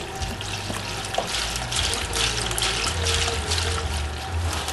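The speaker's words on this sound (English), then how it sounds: "Pour in a bucket of water." Water from a bucket pours steadily into a one-gallon bag of red Hydroton clay pellets, a continuous close splashing trickle with a low background rumble throughout.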